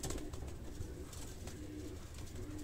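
A high flyer pigeon coos softly and repeatedly nearby, a low, throaty burble over faint background rustle, with no talking.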